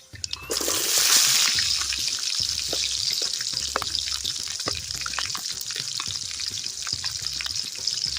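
Onions and green chillies drop into hot oil with mustard seeds for chicken gravy, setting off a sudden loud burst of frying that settles into a steady, crackling sizzle close by.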